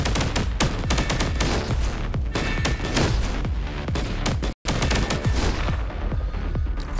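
Rapid, continuous gunfire in the video game Punishing Gray Raven, dense bursts of shots blending into a loud barrage with a brief cut of silence midway.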